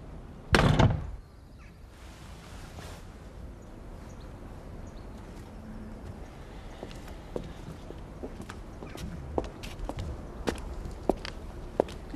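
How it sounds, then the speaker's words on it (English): A door is slammed once, a loud sharp thud near the start, followed by quieter footsteps and small knocks in a room with no talking. "Did she just slam the door in your face?"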